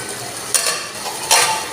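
Spice masala with turmeric, chili, cinnamon, cardamom and bay leaf is stir-fried in a pan for pangas fish, a close hiss of frying with two sharp scraping stirs of a spoon.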